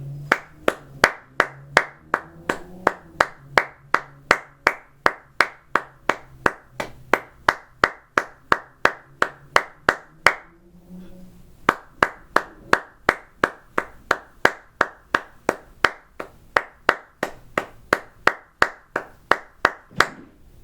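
Steady hand claps beat out a rhythm for a flute practice piece from a beginner band book, loud and close, with a brief pause midway before the even clapping resumes.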